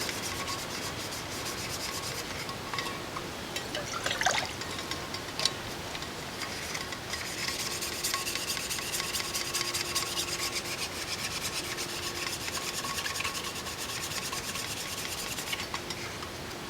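Dry horsetail reed scrubbed over a wooden surface without soap, a steady close, raspy sanding rub that continues evenly with a few small knocks and no talking.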